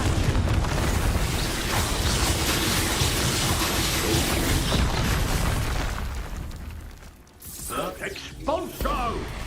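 A Confringo blasting spell explodes in the Hogwarts Legacy video game: a loud, dense roaring burst that holds for several seconds, dips away, then is followed by sharper crackling impacts.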